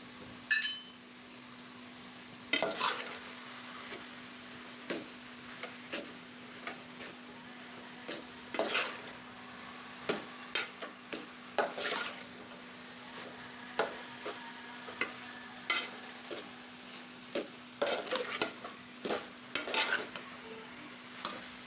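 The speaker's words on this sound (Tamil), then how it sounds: "மிளகாத்தூள் போட்டு கலரிக்கலாம்." Bottle gourd stir-fry with chili powder being stirred in a pan, giving a soft, steady sizzle. A spoon scrapes and clinks against the pan in intermittent knocks, heard close and quiet.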